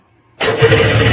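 Snowmobile engine swapped into a golf cart, running through a makeshift exhaust stack, cranks and fires abruptly after a short silence, then settles into a loud, steady, throbbing idle close by.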